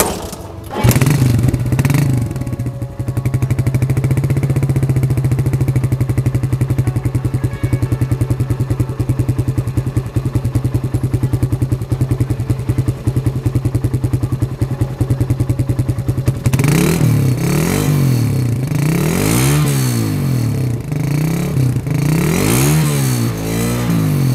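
A 2005 Suzuki Satria F150 motorcycle engine fires up and idles with a steady, loud rumble, then revs repeatedly in rising and falling bursts close by.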